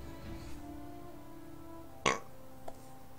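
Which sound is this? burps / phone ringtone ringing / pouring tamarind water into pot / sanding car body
burps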